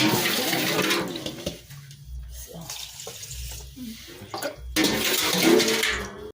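Water pours from a tap into a jar of pickled olives being topped up in a home kitchen, a rushing stream that starts, stops briefly and resumes, with low hum and small clinks between.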